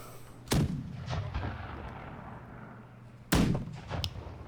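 Two heavy gunshot blasts in a multiplayer naval video game match, spaced about three seconds apart, each with a booming decaying tail over a faint background rumble.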